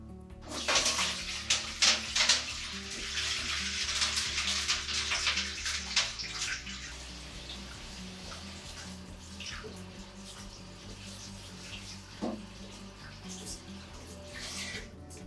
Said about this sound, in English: we're gonna rinse it off to get all the salt off of it